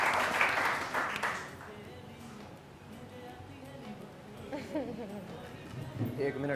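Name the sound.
studio audience applause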